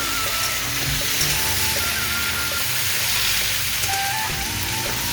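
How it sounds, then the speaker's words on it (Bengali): Potatoes, jackfruit seeds and pointed gourd frying in a wok, a steady close hiss and sizzle running evenly throughout with faint scattered clinks. "এখানে আলু কাঁঠালের বিছন আর পটলটা দিয়ে দিলাম ভালো করে ভেজে নেব"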